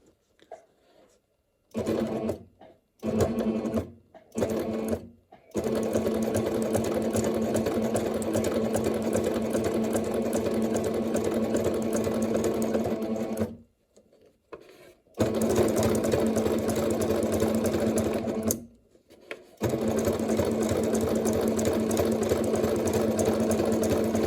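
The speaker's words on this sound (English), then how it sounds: "Place your foot down and we should be ready to sew." A Singer sewing machine fitted with an adjustable bias presser foot stitches fabric in several short starts, then two long steady runs of fast, even mechanical whirring, stopping briefly between them.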